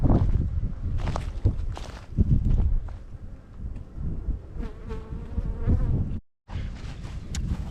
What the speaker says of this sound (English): Bees are getting a little feisty